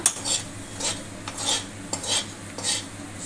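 A utensil scrapes and stirs masala around a pan in rhythmic strokes, roughly one swish every half second, over a faint sizzle from the cooking.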